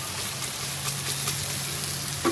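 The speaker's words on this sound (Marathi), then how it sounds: "आपण ह्याच्यामध्ये आता मटण डंप करणार आहोत." Mutton dropped onto browned fried onions in a pan for a Malvani mutton curry: a steady, moderate sizzle and hiss, close by with no speech, ending in a brief louder clatter.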